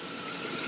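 A car engine running after a Seafoam treatment for lifter tick, giving a steady, close, even idling hum with a faint mechanical patter, heard alone for a brief moment.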